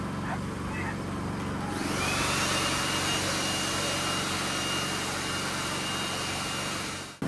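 A Philking inverter generator engine runs nearby with a steady loud hum and whine, climbing to higher RPM after the first couple of seconds and holding constant.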